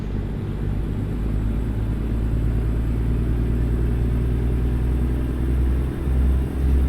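A heavy truck engine in American Truck Simulator, FL FLD rig under a new engine load, drones in a steady, loud low rumble that holds throughout, with a couple of brief dips near the end and no talking.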